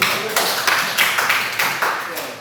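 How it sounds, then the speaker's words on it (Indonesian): Applause from a group at an Indonesian school class presentation on faith in angels, a steady patter of hand claps with rhythmic bursts, fairly close and loud. "kita kasih aplaus dulu"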